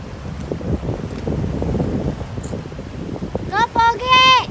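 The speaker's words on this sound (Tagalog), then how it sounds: "Lakas ang alon." Strong waves and gusting wind batter a small fishing boat at sea, a rough rumbling wash of water and wind noise on the microphone, then a voice calls out loudly near the end.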